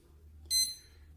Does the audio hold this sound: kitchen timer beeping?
yes